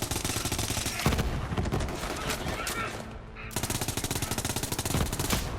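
A Kaoson SMG in Borderlands 3 fires in long rapid bursts, a dense stream of loud close shots broken by a brief pause before firing resumes.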